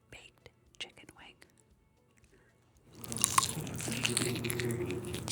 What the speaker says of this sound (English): Crunch test 2. Baked chicken wing.